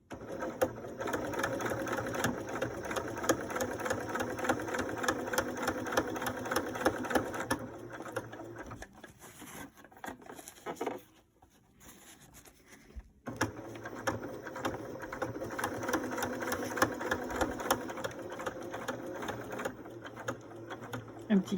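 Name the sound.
sewing machine stitching a fabric mask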